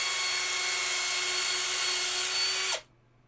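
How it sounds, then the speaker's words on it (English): Power drill boring holes into a resin model kit, a steady high-pitched whine held for nearly three seconds before it cuts off abruptly, leaving a faint hum. "So yes, I'm gonna drill more holes into my expensive model."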